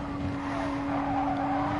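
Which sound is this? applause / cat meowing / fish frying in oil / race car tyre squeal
race car tyre squeal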